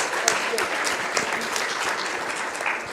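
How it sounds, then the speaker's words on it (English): An audience at a women's leadership debate forum claps for the debaters, a continuous dense patter of many hands at even loudness with a few sharper individual claps standing out near the front. "I think we can all, by a clap, show how amazing it was"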